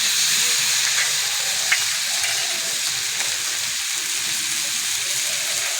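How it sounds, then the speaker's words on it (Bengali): Cauliflower and potato fry in a pan with ginger, cumin and chili paste, giving a loud, even, close hiss of hot oil and steam that barely changes. "ফুলকপি আর আলু ভালো করে ভাজা হয়ে গেছে, এবার বেটে রাখা মশলাটা দিয়ে দেবো।"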